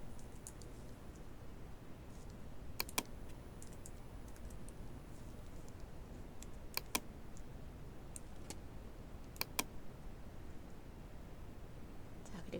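Computer keyboard keys pressed for Photoshop shortcuts, a few sharp isolated clicks and short double taps spaced several seconds apart over a steady low background hum.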